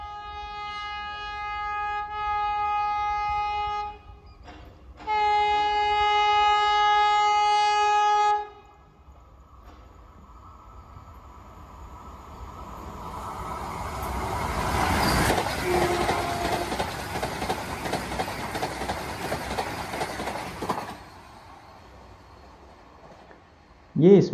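Vande Bharat express on the Ranchi–Howrah route at 130 km/h: two long horn blasts, then a rising roar that peaks as the train rushes past with rattling wheels, then fades.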